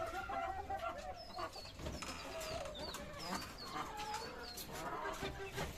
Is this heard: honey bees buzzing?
no